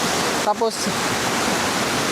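Water at a jungle swimming spot gives a constant rushing roar like a small waterfall or fast stream, filling the scene evenly from start to end, with a brief spoken word over it.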